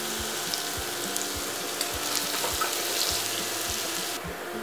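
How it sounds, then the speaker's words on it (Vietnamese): Minced garlic fries in annatto oil in a pan, giving a steady bright sizzle and crackle up close, with soft regular low thumps beneath and the sizzle easing slightly at the end. "Và cho vào đây một ít tỏi băm."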